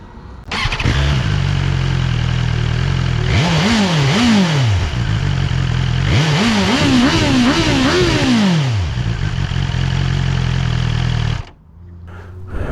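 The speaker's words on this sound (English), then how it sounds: "we're going to go for a quick test ride on the BMW S1000Xr TE 2021" A 2021 BMW S1000XR TE motorcycle engine starts and idles loudly up close, with two rising-and-falling rev blips in the middle before the engine cuts off near the end.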